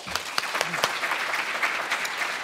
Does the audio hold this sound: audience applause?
yes